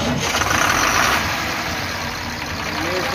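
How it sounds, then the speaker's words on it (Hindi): Rebuilt Tata 4018 24-valve truck diesel engine running after starting, a loud steady rumbling idle heard close up, with someone talking over it. "ये मेरा इंजन कंप्लीट होने के बाद मैं इसको स्टार्ट करने जा रहा हूँ"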